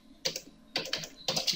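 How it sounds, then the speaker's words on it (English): Three short bursts of key clicks on a computer keyboard while entering a list command in AutoCAD, close and fairly quiet, each flurry about a quarter second long with brief pauses between. "I have to type out list"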